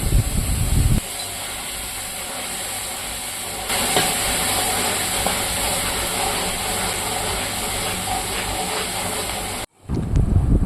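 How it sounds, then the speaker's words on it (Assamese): A pot of tenga curry bubbles on a stove with a continuous loud hissing boil, close up and unbroken until it drops out abruptly near the end. "প্ৰায় উতলিছে আৰু অকণমান সময় উতলিবলৈ দি"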